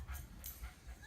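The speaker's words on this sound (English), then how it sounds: "Here's a magic video of a dog barking the entire time." A dog whimpers and gives short yips and barks in a quiet indoor setting during a casual card game, the faint, uneven cries coming in a few bursts.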